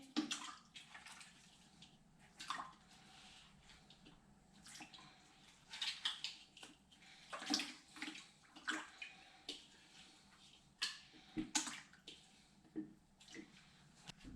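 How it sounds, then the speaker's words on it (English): Cleaned red snapper throats go into brine in a clean ice chest, with faint wet splashes and soft drips scattered over a quiet background. "drop them into the brine solution."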